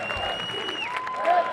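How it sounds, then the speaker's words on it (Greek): A live audience claps at a tribute concert at the Faliro Summer Theater, giving a steady, dense burst of applause. Faint sustained tones from the stage carry beneath it. "Θέλω και ένα χειροκρότημα σας παρακαλώ."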